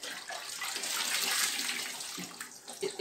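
Water runs steadily over a surface sprayed with a diluted multi-purpose cleaner, a continuous close hissing wash that eases slightly toward the end.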